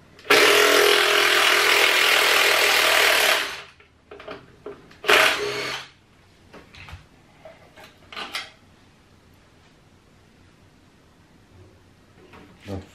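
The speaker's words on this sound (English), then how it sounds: "So let's find a power tool. So I will use this one." A power tool whirs loudly for about three seconds while a Segway I2/X2 is taken apart, followed by shorter bursts and clicks of screws and parts being handled.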